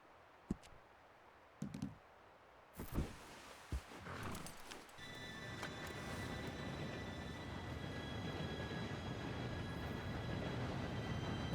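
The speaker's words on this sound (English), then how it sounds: "Train should be here any minute now." Train arriving in Red Dead Redemption 2, starting with scattered clanks and rumbles, then a rising roar of rolling wheels and a steady metallic hiss that builds and holds loud to the end.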